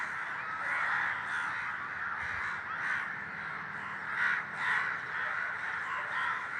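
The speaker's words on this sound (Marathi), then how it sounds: "संध्याकाळची वेळ आहे, कावळे एवढे फडफड फडफड फडफड फड" A flock of crows caws repeatedly in the evening over an open plot beside a garden, loud overlapping calls in an irregular rhythm with no talk.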